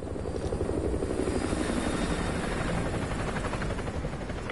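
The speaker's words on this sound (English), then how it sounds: "Chopper inbound. Keep low." A military helicopter in Call of Duty Modern Warfare 2 Remastered passes overhead, its loud, steady rotor roar and pulsing blade chop filling the scene with no voices.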